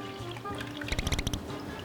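Milk pours into a cooking pot in a short, soft trickle, with a cluster of quick splashy drips near the middle, faint and close.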